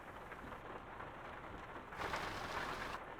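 Steady rain patters in Euro Truck Simulator 2 while a Volvo FH Sleeper drives from Poznan to Gdansk, forming a quiet, continuous wash that swells slightly louder partway through, with no talk over it.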